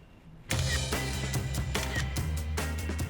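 A cable car runs at its single speed, a steady motor hum with rhythmic clattering and squeaks starting abruptly and continuing loudly throughout.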